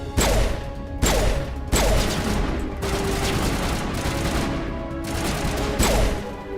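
Pistol shots from the Mass Effect game ring out in sharp, loud single blasts, several spaced about a second apart and each trailing into a noisy ringing tail, over a steady din of combat.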